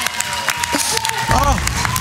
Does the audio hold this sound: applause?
yes